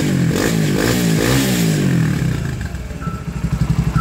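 Apache RTR 180 motorcycle fitted with a Key Racing exhaust, heard close and loud as it revs with a throaty rasp, then drops into a lumpy, rhythmic idle burble with distinct pulsing exhaust beats.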